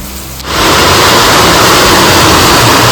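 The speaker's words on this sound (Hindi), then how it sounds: "ये जो नॉइस है ये बारिश की आवाज आ रही है पूरी।" Heavy rain roars suddenly into a dense, steady hiss after a brief quieter moment, heard from inside a house in Himachal Pradesh. It stays loud and constant, with no talking.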